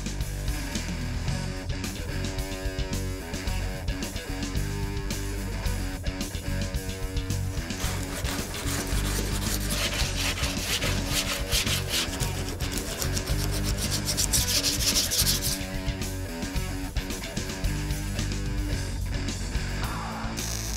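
Paint being sanded on a Trans Am tribute car body: a steady, continuous rubbing and scraping that swells louder near the middle, running under background music with no talk.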